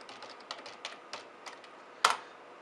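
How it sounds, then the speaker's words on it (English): Password being typed on a computer keyboard: a handful of soft, evenly spaced key taps close by, ending with one sharper, louder keystroke. "type in your password"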